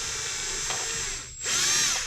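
A small power drill with the smallest bit from a Milwaukee set whines steadily at high pitch, dips briefly as the bit bites through, then revs back up loud and close.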